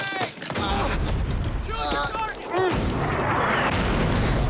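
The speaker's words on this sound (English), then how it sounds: "Take cover! It's German artillery!" German artillery shelling in a World War II television drama: loud, continuous booming and rumbling blasts fill the scene, with shouting voices heard over the barrage.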